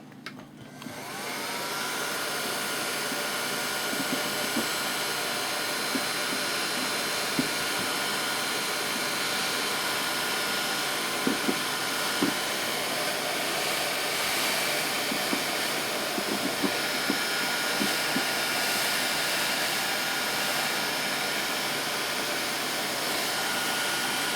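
Steady, continuous blowing roar of a heat gun shrinking heat-shrink tubing over wiring while building an AT-6 Texan model aircraft, close and constant for the whole stretch with faint clicks and handling noises underneath.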